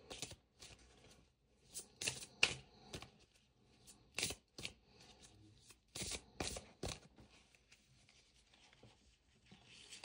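Tarot cards from a Little Ghost deck being handled and drawn, with soft shuffling, rubbing and crisp card snaps in irregular bursts, close and quiet with no talking.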